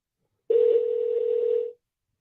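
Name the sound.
telephone dial tone after the call hung up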